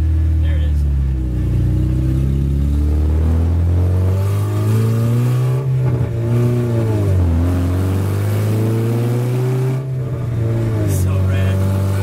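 A long-running project car drives along with its engine pulling steadily under acceleration, a loud continuous drone that rises and dips in pitch as it revs, with occasional voices talking over it inside the cabin.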